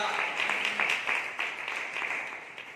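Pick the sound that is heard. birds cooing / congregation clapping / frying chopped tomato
congregation clapping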